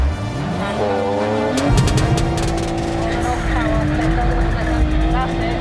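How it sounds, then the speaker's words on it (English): A car engine revs hard and roars with rising and falling pitch, tires squealing at times, and a voice talks over the engine. "clutch down, nice, revs up nice and strong"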